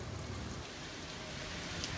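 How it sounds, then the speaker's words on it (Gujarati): Heavy rain pours down over Dhoraji in Rajkot in a dense, even wash of hiss and patter, continuous and close, with no voices. "વીજળીના કડાકા સાથે વરસાદનું આગમન થયું છે"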